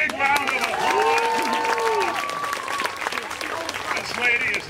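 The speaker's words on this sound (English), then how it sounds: "Give her a big round of applause." A circus audience applauds in a dense wash of clapping and crowd noise, while a voice carries over the top and the applause swells again near the end.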